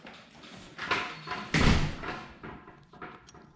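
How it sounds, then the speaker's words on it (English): A door shuts with one solid, close slam and thud in the middle, between quieter bumps and shuffling. "Close the door."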